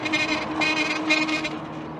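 Brakes on a 1984 Schwinn Predator bicycle squeal in a high, ringing tone over rolling road noise, rising in two or three close surges across a couple of seconds.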